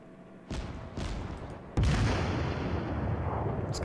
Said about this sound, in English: Just switching to armor piercing on the next salvo